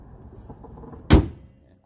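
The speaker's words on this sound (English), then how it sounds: "Let's close this hood real quick." The hood of a Chevrolet Impala slams shut in a single close, heavy thud after a quiet moment.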